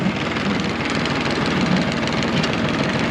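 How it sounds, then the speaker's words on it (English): A tractor engine idles low, around 500 RPM, with the PTO engaged, giving a steady, continuous mechanical drone with a fine rhythmic pulse throughout. "So I engage my PTO."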